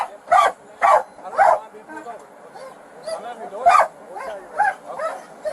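A sheriff's police dog barks near a car during a felony traffic stop, giving several loud, spaced barks and some yips. Background sounds and voices carry on between the barks.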